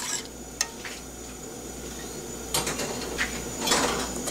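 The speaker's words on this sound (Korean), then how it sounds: "나무 수저로 이렇게 저어줍니다" A wooden spoon stirs cold flour paste in a pot, giving soft scraping strokes in a few bursts over a quiet background hiss, close by and with no talk.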